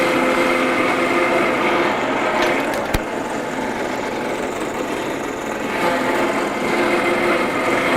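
An Allett C27 Evolution reel mower cuts a golf course lawn with a steady, close, unbroken whirring drone and a soft rasping clatter that stays constant throughout, with no voices.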